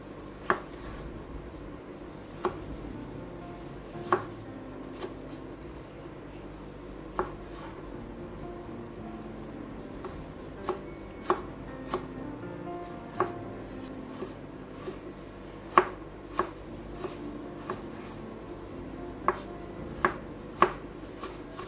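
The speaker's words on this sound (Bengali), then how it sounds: "কিছু টমেটো কেটে নিতে হবে" Knife chopping tomatoes on a board while preparing mutton pot biryani, heard as sparse, irregular taps spread over a long stretch against a quiet kitchen background.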